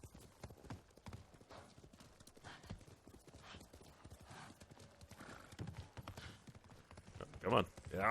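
Horse hooves clip-clop in the game Ghost of Tsushima, a steady run of light beats mixed with game sounds and a whinny near the end, while someone talks over much of it.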